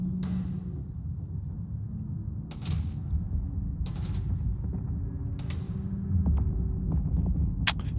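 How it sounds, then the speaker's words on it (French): Gunfire echoes from off in the distance in the video game Eve Vanguard as sporadic sharp shots and short bursts over a steady low hum. "Tiens, ça tire par là-bas."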